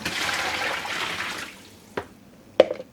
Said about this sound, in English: And adding in the 4 liters of cold water.